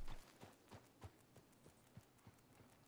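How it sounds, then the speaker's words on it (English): Hooves of a horse clip-clop at a steady trotting rhythm in the Red Dead video game, about ten evenly spaced soft thuds, fairly faint and heard alone. "This horse runs off."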